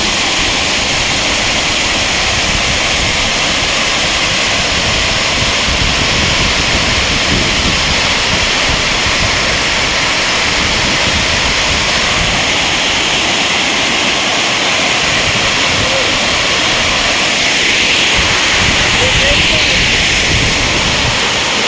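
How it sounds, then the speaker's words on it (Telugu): A waterfall near Warangal roars as a loud, continuous broadband wash, heard close and unbroken for over twenty seconds, with a steady wind-like rush and no pauses. "ఇదే వాటర్ ఫాల్ సూపర్ ఉంది"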